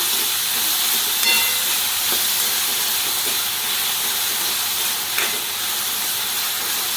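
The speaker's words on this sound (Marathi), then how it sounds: "ह्याला मी पाच मिनटं कमी गॅस परतून घेते" Ridge gourd sautéing in a pan over low gas, giving a steady, loud, even hiss of frying that runs throughout with only faint clicks and no talk.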